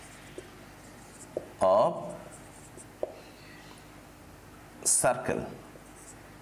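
Quick handwriting with a pen on paper gives faint, brief scratches and taps, partly masked by a nearby voice speaking in two short bursts.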